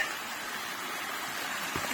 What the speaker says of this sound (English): we'll call that a little waterfall